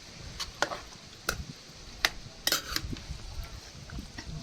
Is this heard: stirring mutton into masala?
yes